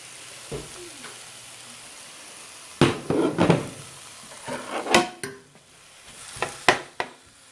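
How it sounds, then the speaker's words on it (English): Tomato and onions dropped into hot oil for chicken tinga, a sizzle that rises with clattering stir strokes and pan knocks in bursts, close and fairly loud. "then you put in your tomato and your onions, and we'll give that a quick stir"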